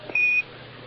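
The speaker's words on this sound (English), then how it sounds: "Give us a reading on the 1202 program alarm." The Apollo 11 lunar module's 1202 program alarm sounds as a single brief, steady high-pitched beep over a faint radio-channel hiss, heard alone.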